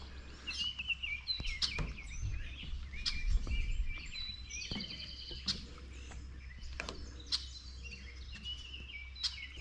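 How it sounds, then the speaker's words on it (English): Many birds chirp and sing outdoors, with sharp overlapping calls and trills against a steady low hum, with no talking. "Birds are just going crazy this morning."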